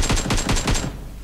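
Rapid automatic gunfire in PUBG Mobile, about seven quick shots in a tight burst, loud and close, then cutting off into a short fading tail.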